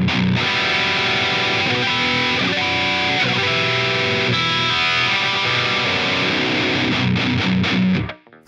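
Heavily driven electric guitar on a Manson guitar with skinny-top, heavy-bottom 10-52 strings, run through a Line 6 Helix LT, chugs a dense, loud riff in half drop B tuning for about eight seconds before stopping abruptly.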